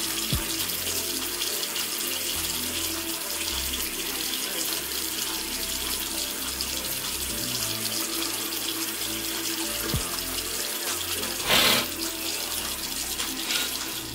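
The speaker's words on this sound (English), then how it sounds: "you wash your face" A bathroom tap runs steadily and loudly while a person washes their face, with a constant rush of water and a few small splashes and knocks, and no talking.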